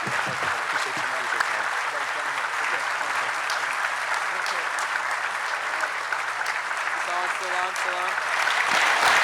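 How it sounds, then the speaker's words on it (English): Sustained applause from a conference audience for a keynote speaker, steady and dense for the full stretch, with scattered voices and a few brief spoken exchanges near the end. "Yes, round of applause"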